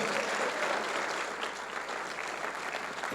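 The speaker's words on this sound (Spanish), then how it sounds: "Le da un aplauso a Cristo." A church congregation applauds, dense continuous clapping from many hands that holds at an even, fairly loud level throughout.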